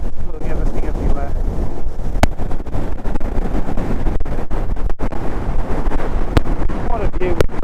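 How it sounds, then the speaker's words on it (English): Strong wind buffeting the microphone on an exposed hilltop in the Simonside Hills, Northumberland, a loud steady roar throughout with a few sharp gust thumps, and someone speaking faintly beneath it. "The wind blowing everything everywhere."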